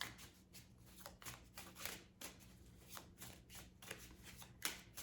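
Tarot cards are shuffled for a reading in quick bursts of riffling and sliding, each swell followed by the next. The shuffling is close and fairly quiet, and nobody speaks over it.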